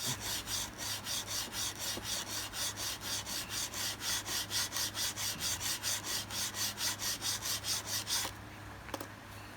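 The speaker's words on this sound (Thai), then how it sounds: "พยายามขัดให้มันได้ระนาบครับ" A gun part being rubbed flat by hand during bluing, a steady series of about thirty brisk scraping strokes in an even back-and-forth rhythm, close and clear, ending with a few light knocks.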